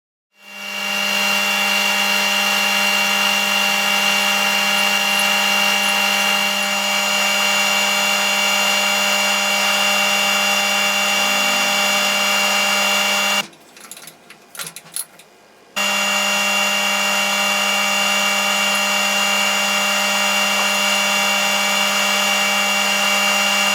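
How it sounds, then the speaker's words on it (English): A bandsaw cuts through a 10mm aluminium plate, a loud continuous whining hum with a steady tonal drone, briefly stopping for about two seconds midway before resuming at full level. "Then I used a bandsaw to cut the shape out."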